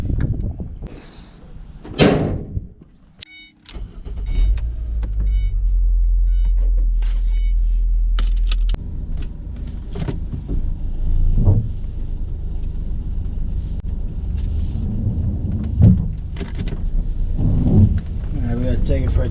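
A Ford vehicle with fault code P1289 shuts its door with a loud thud before setting off on a test drive. A steady engine rumble follows, then road and cabin noise with scattered knocks and bumps.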